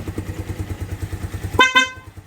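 A motorcycle engine idles with a rhythmic putter, then two short honks of its horn sound up close during a horn test.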